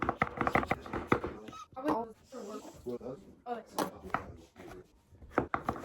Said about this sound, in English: So I'm just gonna chop these up really quick and throw them in a pan to saute.